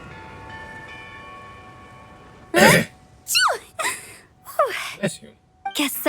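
A character in the video game Genshin Impact sneezes sharply after a quiet stretch, followed by a few short breathy vocal sounds close by.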